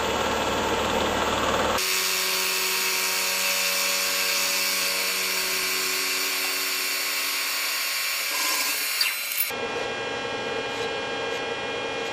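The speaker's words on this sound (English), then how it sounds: "Back on the mill again, and we're using a 1/2 inch high-speed steel end mill to cut a 3/4 inch radius" Milling machine cutting a 3/4 inch radius into the top of an aluminum-style angle bracket with a 1/2 inch high-speed steel end mill, a loud steady high-pitched whine with dense tonal harmonics that runs continuously for about eight seconds before easing to motor hum.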